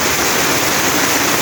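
Heavy rainfall pours down in Mombasa as a dense, continuous broadband hiss of drops hitting surfaces, loud and steady throughout with no voices.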